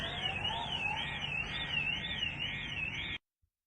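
Car alarms set off by explosion shockwaves wail in a steady warbling rise and fall, sounding from some distance, then cut out abruptly after about three seconds.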